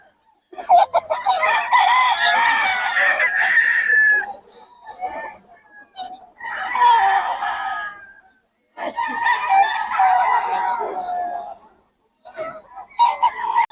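Roosters crowing and chickens clucking at a Bocaue fowl yard: loud, close bursts of crowing and clucking in several waves separated by short quiet gaps.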